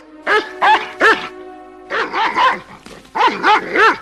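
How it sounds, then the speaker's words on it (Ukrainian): A dog barks sharply in quick bursts, two groups of three or four barks with a brief gap between them, close and loud. "Та це ж собака пана Пендлтона"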